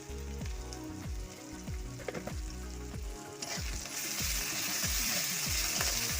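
Spices and ingredients for potol dorma are stirred in a hot pan: loud crackling sizzle with rhythmic scraping strokes of a spatula repeating about twice a second, growing hissier toward the end, with no talk.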